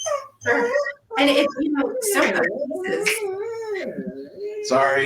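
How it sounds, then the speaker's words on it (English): A pet dog at home, worked up over a rabbit in the backyard, whimpers, yips and barks in loud, agitated bursts close by while a person keeps talking over it. "that's my dog saw a rabbit in the backyard, so she's going a little crazy here."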